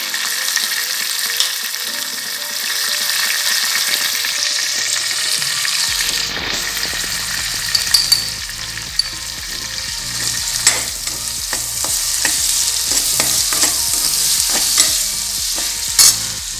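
Sliced onions and tomato sizzle in hot oil for Chettinad chicken masala, a loud constant frying hiss broken by repeated scrapes and clinks of stirring, with no voices.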